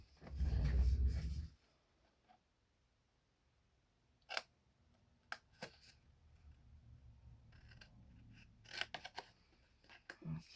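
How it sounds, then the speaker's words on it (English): Scissors cut out a small section of paper close by in a few quiet separate snips, with a louder rustle of paper handling at the start, no talking. "This one little section here is what I'm going to cut out."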